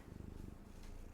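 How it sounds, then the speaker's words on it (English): A soft, steady cat purr, close and quiet, with a gentle rhythmic rumble and no talking. "I'm sure you can hear her purring."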